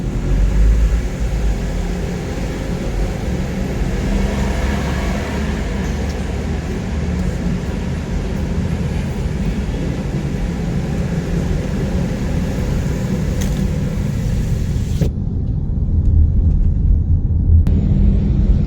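Inside a BYD M6 cruising on a toll road, steady low road and wind rumble fills the cabin, continuous and fairly loud, with a brief shift in tone near the end.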